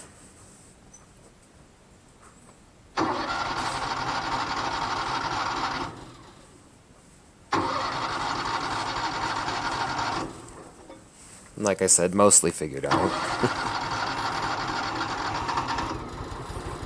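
A wood chipper engine is cranked over twice in long rasping pulls, each a few seconds of steady churning noise, then catches and keeps running with a rough, continuous drone. Someone speaks briefly between the attempts.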